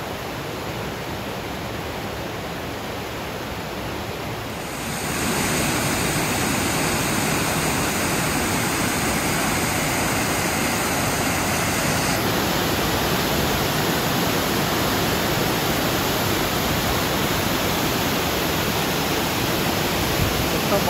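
Waterfall with water pouring down, heard on a walk: a dense, constant broadband roar that grows louder partway through and then holds steady, close and enveloping, with no voices audible above it.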